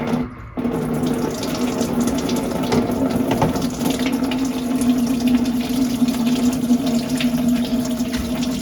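Coolant drains from a car radiator into a 5-gallon bucket, a steady, close, continuous pouring and splashing stream of liquid after a brief quieter start.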